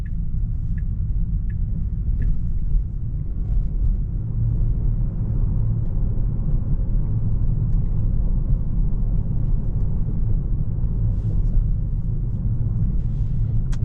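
A Tesla in Full Self Driving makes a right turn after a full stop in a Kingwood, Texas neighborhood, heard as a steady low road rumble and cabin hum with faint ticking throughout.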